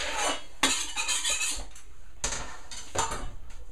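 A spoon scrapes and clatters in a bowl, stirring chopped white chocolate into a microwave chocolate pudding mixture, with bursts of close, clinking strokes between quieter pauses and no talking.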